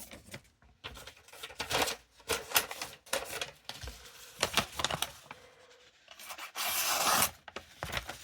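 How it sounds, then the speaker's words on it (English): A thick-stock Marbles D2 trapper knife with a spade blade slices through paper in a series of short, crisp rasping strokes, close and fairly quiet, ending in one longer, brighter hiss. "Let's do a little paper cut test."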